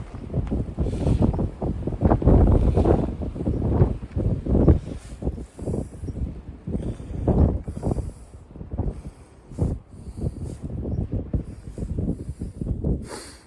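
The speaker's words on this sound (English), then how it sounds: "There is lots of wind gust here." Strong wind gusts buffet the microphone outdoors, roaring and rumbling in irregular surges that rise and fall loudly throughout, with no talk.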